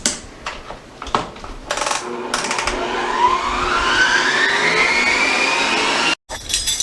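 An electric mixer whirs through cookie batter, mixing until white and fluffy, opening with clattering bursts as the beaters start, then settling into a steady, loud motor whine that rises in pitch before cutting off briefly near the end.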